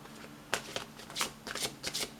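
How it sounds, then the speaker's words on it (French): A deck of tarot cards is shuffled by hand in a quick run of crisp riffling flicks and slides, close and fairly quiet, with no voices. "C'est maintenant que vous allez choisir le temps que je mélange les cartes."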